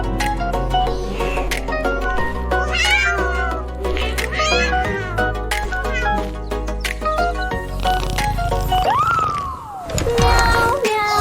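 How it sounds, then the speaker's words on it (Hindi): A cat meows loudly in a cartoon-style Hindi nursery rhyme for kids, a rising and falling call near the end over bright backing music, with a child-like singing voice also present. "बिल्ली करती म्याऊ म्याऊ।"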